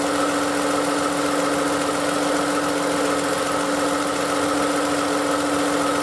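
A 2016 Toyota Highlander engine idles near 800 RPM, a steady close low hum with a faint knocking vibration running unbroken throughout.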